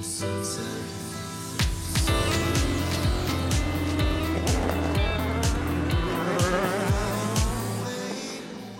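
Race cars, among them an Aston Martin and a BMW, scream past during a sports car race, with loud rising and falling engine notes and repeated gear-change sweeps as cars pass close by.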